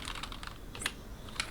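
Keystrokes on a computer keyboard while entering commands in a networking lab, quiet and irregular, with a few louder key presses standing out.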